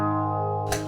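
A held electric guitar chord rings with a swirling, sweeping phaser effect from a NUX Cerberus pedal, then a fresh strum bursts in near the end.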